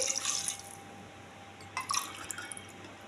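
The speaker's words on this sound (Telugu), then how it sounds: "వాటర్ పోసుకోవాలి. బాస్మతి రైస్కి 1కి 1 సగం పోసుకోవాలి వాటరు, సరిపోతుంది." Water pours and trickles into a pot of basmati rice in two short, close splashing bursts with a quiet gap between them.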